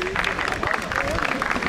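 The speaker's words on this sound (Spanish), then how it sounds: "Un aplauso, por favor." Applause at a regional regatta awards ceremony in Castilla-La Mancha: steady crowd clapping that runs throughout, with voices talking over it.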